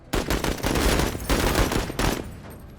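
Rapid bursts of gunfire from shooting enemies in the Menace video game, several loud automatic volleys in quick succession with brief gaps, close and dominant with no talk.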